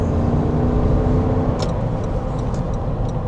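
A Lexus GX460 V8 engine hums in a steady low rumble, with a few light ticks toward the end and no talking.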